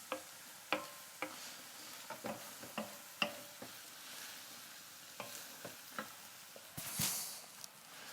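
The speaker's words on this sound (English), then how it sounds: "Stir it around until all of the alcohol has evaporated." A spoon scrapes and taps around a pan of risotto while white wine bubbles off, giving soft, irregular tick-like strokes over a faint steady sizzle.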